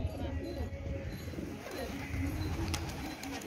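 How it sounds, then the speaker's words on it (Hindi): Pigeons cooing, soft low warbling coos that repeat close by over a steady murmur of background voices. "हाँ, ये उड़ने वाले कबूतर है"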